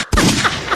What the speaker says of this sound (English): I want gunshots.